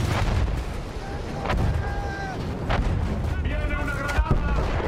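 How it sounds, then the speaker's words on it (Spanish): Cannon fire in the World War I shooter Battlefield 1, booming shots during a chaotic muddy battlefield campaign, with heavy rumbling explosions and battle noise under continuous talk. "Dispara ese cañón y avanza"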